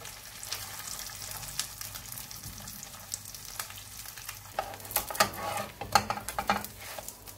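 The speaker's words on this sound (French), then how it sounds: "ها هما مسمنات تحمروا" Msemen flatbread frying in a pan, a steady close sizzle with scraping stirs and clinks of utensils on the pan, growing busier toward the end; no talking.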